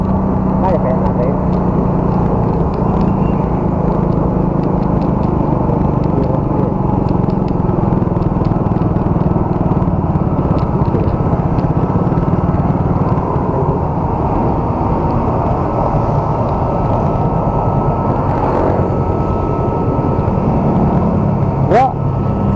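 A motorcycle engine drones loudly and steadily for the whole stretch, with people talking over the constant rumble.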